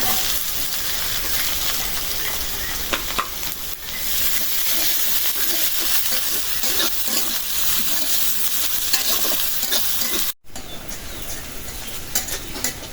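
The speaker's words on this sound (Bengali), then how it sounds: "পেঁয়াজ রসুনটা ভাজা হয়ে গেছে" Onion and garlic fry in a pan with a dense, rain-like sizzle and the scrape of stirring, loud and close throughout, broken by one brief gap near the end.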